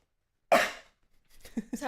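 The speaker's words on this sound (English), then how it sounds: "Please excuse your coughs and whatnot" A single sharp cough from a sick person breaks the silence close up, followed by faint breathy vocal sounds.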